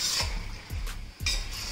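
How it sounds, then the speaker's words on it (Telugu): A spoon stirs coconut milk chicken biryani ingredients with whole garam masala in a pot, giving three quick scraping sweeps with a soft sizzle in between, quiet and close. "అన్నిటి బాగా మిక్స్ చేసేసుకుంటా."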